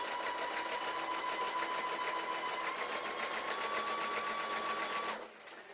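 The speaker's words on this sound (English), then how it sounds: "You should get a really nice one continuous stitch right along, right round." A sewing machine stitching jeans runs in one steady, continuous whir with a constant mechanical pitch for about five seconds, then stops, leaving a faint background hum.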